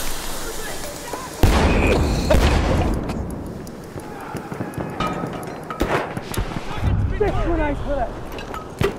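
Grenade blast in Battlefield 1, with a sudden loud boom after a short lead-in, then a rumbling, crackling decay. Voices and scattered battlefield noise continue underneath.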